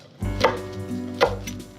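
A knife chops scallions and asparagus for a salad on a board, two crisp, close strikes about three-quarters of a second apart with no talk.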